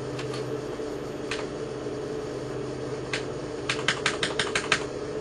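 Keys clacking on an IBM 5150 computer keyboard with some sticky, non-working keys, a few sparse presses followed by a quick burst of typing over a steady hum of fans.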